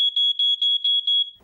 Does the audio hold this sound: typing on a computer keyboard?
no